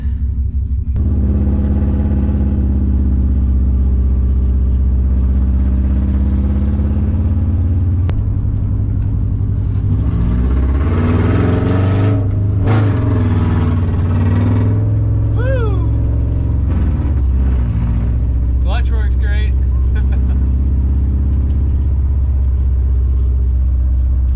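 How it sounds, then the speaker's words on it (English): A rally-prepped Subaru STI engine running with no exhaust fitted, loud and close with a deep rumbling idle that rises into revving surges midway; a voice is briefly heard. "It's super loud because there's no exhaust on it."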